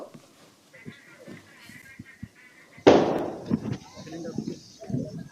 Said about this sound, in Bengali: এই মুহূর্তে আবারও একটা বিস্ফোরণের শব্দ। এই পুলিশ ক্যাম্পে যে সিজার করা যে গ্যাস সিলিন্ডার ছিল একের পর এক সেগুলো বিস্ফোরণ হচ্ছে।